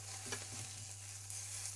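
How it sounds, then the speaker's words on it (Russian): Figs warm in a frying pan for a warm goat cheese salad, giving a faint, steady hiss and sizzle with a couple of soft stirring clicks early on. "Я инжир тоже сейчас прогрею в сковородке."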